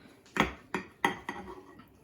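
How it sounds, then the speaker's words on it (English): A knife clinks against a plate while slicing through a Baked Alaska, giving four sharp taps in an uneven rhythm, close and fairly quiet. "I'm going to take a knife and cut through it first"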